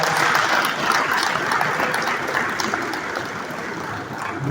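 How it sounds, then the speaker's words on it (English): Loud sustained applause from a conference audience at a Lagos real estate event, a thick continuous clatter of many hands that holds steady and eases slightly toward the end. "I think Mr. Governor deserves a big round of applause."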